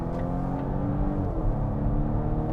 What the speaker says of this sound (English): Force the downshift.